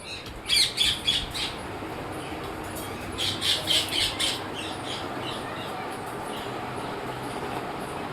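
Parrots give two short bursts of shrill squawks nearby, set against a faint steady outdoor background that continues quietly afterward.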